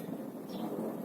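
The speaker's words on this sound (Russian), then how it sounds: "Гремит гром" Faint, low thunder rolls briefly in the distance over a rural garden in Kuban after a summer rain shower.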